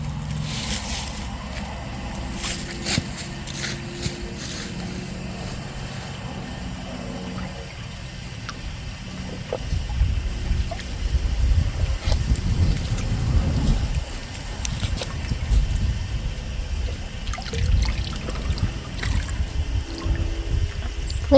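Fresh clean water runs and splashes steadily on a homestead with livestock nearby, a low gurgling flow that swells louder about halfway through, with no talking.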